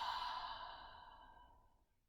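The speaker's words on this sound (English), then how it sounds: "And exhale." One long, audible exhale during a seated desk stretching routine for the hips, fading gradually over about two seconds, close and soft, with no speech.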